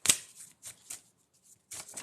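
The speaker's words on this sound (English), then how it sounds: "This one's hard to shuffle." A tarot card deck is shuffled in several short, crisp riffling bursts up close, separated by brief pauses, with no talking.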